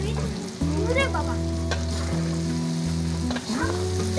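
Date and tamarind pickle frying in a pan, a loud steady sizzle throughout with scraping stirs from a spoon and faint background voices under the frying.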